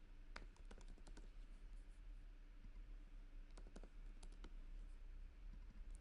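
Computer keyboard typing in short clustered bursts of crisp key clicks, with pauses between runs over a steady low hum; fairly quiet and close, with no talking.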